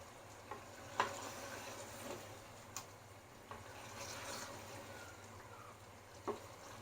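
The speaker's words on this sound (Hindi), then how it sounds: "अच्छी तरह से इसकी भुनाई करेंगे। गोश्त भुन गया है" Mutton frying in oil in a clay pot for kunna, a faint, steady low sizzle with soft scattered clicks of stirring, no voices.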